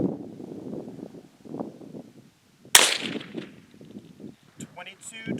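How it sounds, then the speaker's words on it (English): A single sharp 22 Magnum rifle shot firing a 30 grain Hornady VMAX round cracks out about midway, loud and abrupt, with people talking before and after it. "Getting ready to shoot the 22 Magnum."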